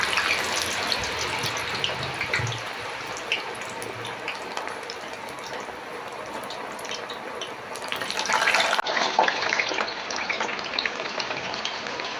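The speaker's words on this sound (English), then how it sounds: "when the oil is hot enough, I'll then add my sliced potatoes and fry" Sliced sweet potatoes frying in hot oil at home, a steady dense sizzle and crackle throughout, close and fairly loud, swelling briefly near the end.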